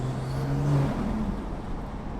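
Tuned BMW 340i exhaust with a low, steady drone that breaks into rough, uneven burbling as the revs drop, close and moderately loud with no talk.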